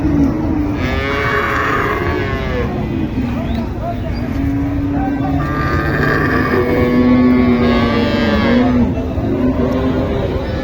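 Cattle moo repeatedly at a cattle market in Joypurhat, Bangladesh, long low calls rising and falling, amid a busy crowd murmur and nearby voices talking throughout.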